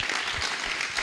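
A church congregation clapping together, dense and sustained applause filling the room for a brief moment.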